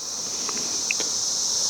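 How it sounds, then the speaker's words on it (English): Brood X periodical cicadas buzz in a continuous, high-pitched drone that holds steady throughout, with a few faint ticks beneath it. "A little noisy today with all the cicadas going frantic."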